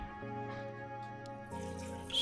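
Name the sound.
water being poured into the pot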